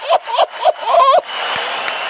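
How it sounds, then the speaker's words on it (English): Crowd at the Canelo vs Triple G boxing rematch in Las Vegas: a few loud, short voiced shouts, then a steady roar of crowd noise. "Let's just hear just a little bit of the crowd noise."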